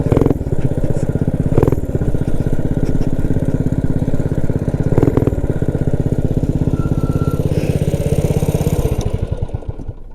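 A Motovox minibike with a Predator 212 engine runs close and loud, its rapid pulsing single-cylinder drone holding steady with a couple of brief revs before winding down at the end.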